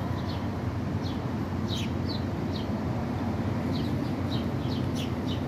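Small birds chirp outdoors in short, scattered, faint calls over a steady, loud broadband background hiss.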